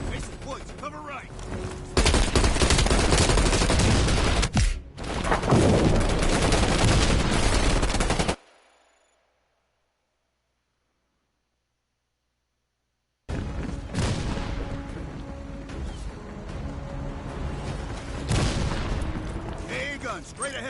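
Dense gunfire and an RPG blast in the Black Ops Cold War campaign, loud continuous automatic fire with heavy booms that cuts to silence for several seconds, then more sustained firing resumes, with shouted voices mixed in.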